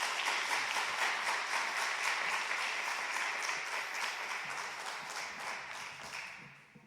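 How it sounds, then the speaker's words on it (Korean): A church congregation welcomes a guest pastor with a long burst of sustained applause, many hands clapping together with a crowd-wide wash of sound that gradually tapers off at the end. "크게 박수로 모시겠습니다"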